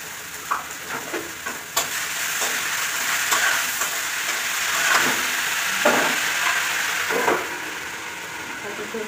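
Fish head frying in a pan, a continuous bright sizzle with scattered sharp clinks and scrapes of stirring throughout.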